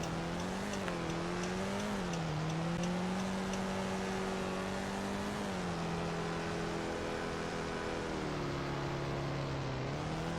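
A 2013 Volkswagen Beetle driving in the Roblox game Greenville, its engine droning steadily and loudly throughout, the pitch rising and falling as it speeds up and eases off, with no talk.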